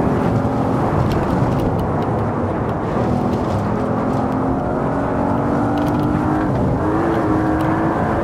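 Audi RS6 engine pulling hard under full throttle in the Assetto Corsa racing game, a loud continuous drone with rising pitch sweeps as it climbs through the gears, heard alone without talk.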